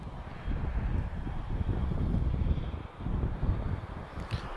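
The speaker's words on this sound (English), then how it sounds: "2 A319s from EasyJet." Two EasyJet Airbus A319 airliners at Lisbon Airport give a steady, loud engine roar with heavy wind buffeting on the microphone, holding constant throughout.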